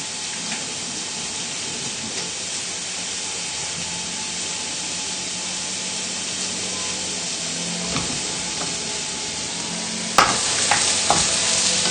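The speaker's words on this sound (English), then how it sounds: "we'll just give the mushrooms a good stir together" Mushrooms frying in a pan, a steady close sizzle and hiss with stirring scrapes, growing louder near the end as they are stirred.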